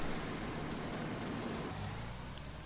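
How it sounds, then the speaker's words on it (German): A tractor engine in Landwirtschafts-Simulator 19 rumbles steadily and fairly loud throughout, its low drone shifting in tone partway through as it settles into running. "so, starten wir den Motor."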